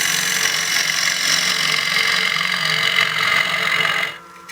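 A square carbide cutter on a wood lathe roughs away bulk wood from the centre of a turning: a continuous, loud rasping hiss that holds for about four seconds, then cuts off.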